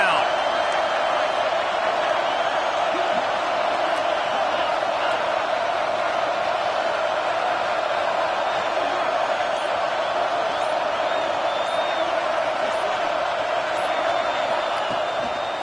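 A dense, unbroken roar from a stadium crowd making noise on third down in a football video game, loud and constant from start to finish beneath a commentator's voice.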